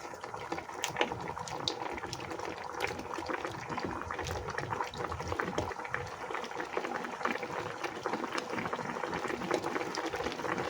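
Coconut milk simmering with tilapia in a pot, a steady close bubbling and crackling hiss that runs evenly throughout with soft clicks.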